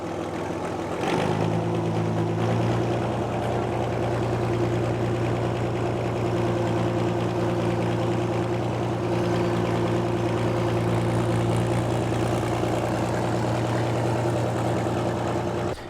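An old tractor engine starts and settles into a steady, throbbing idle, its straight-piped exhaust giving a deep, loud, even rumble close by.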